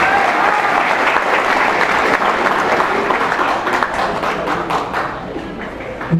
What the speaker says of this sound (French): Applaudissez-les s'il vous plaît.